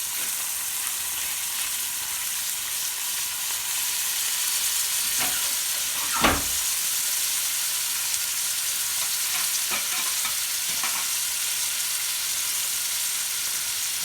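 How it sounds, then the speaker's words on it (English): Garlic, scallion, thyme and mixed vegetables saute in a pot with a constant loud hissing sizzle, interrupted by a few scraping stirs and one sharper clatter, close by with no talking. "I'm gonna saute all of this up with some mixed veggies for color"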